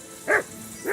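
A dog in Kingdom Come: Deliverance II gives two sharp, close barks about half a second apart, the second cut short, over a quiet background.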